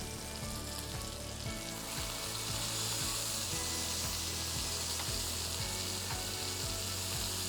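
Beef tenderloin sears loudly in a hot pan, a dense continuous sizzle and crackle that stays steady throughout with no talking.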